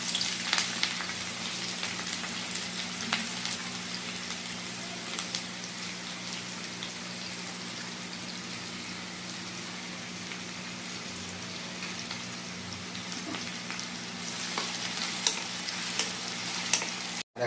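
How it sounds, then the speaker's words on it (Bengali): Chopped medium-sized onion frying in hot oil in a pan, a steady, close, dense sizzle that holds evenly for the whole stretch with no one speaking. "তেল গরম হয়ে গেছে, আর এখন এখানে দিয়ে নেব আগে থেকে একটা মিডিয়াম সাইজের পেঁয়াজ আমি কুচি করে রেখেছিলাম সেটা"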